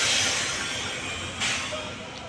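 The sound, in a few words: train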